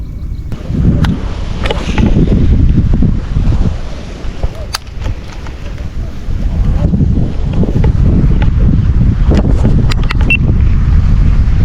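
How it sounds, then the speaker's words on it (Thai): Strong wind buffets the microphone in loud, continuous gusts while fishing, with a low roaring rumble throughout and a few faint clicks. "ลมแรง"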